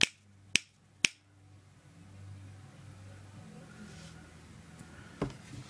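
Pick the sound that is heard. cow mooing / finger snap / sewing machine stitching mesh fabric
finger snap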